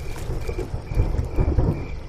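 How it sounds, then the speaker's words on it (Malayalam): Thunder cracks and rumbles over falling rain, with several low booming swells in quick succession at moderate volume. "മോഹൻ നദി കടക്കാൻ തുടങ്ങിയപ്പോൾ തന്നെ ആകാശത്ത് പെട്ടെന്നൊരു ഇടി വെട്ടി"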